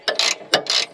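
A ratchet wrench cranks coilover mounting bolts tight on a car's rear suspension: two quick bursts of close, loud ratcheting clicks, each opened by a sharp snap, with no voices.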